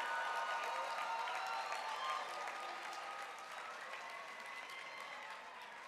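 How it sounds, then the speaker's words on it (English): Audience applause for the advisors at a student leadership conference opening session, a dense steady clapping from a large crowd that fades slightly over several seconds. "So let's give them a big round of applause."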